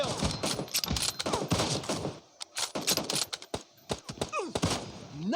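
Gunfire in the video game PUBG: rapid bursts of automatic shots crackle through the first two seconds, then sharper scattered single shots and thuds follow, fairly loud with no talk.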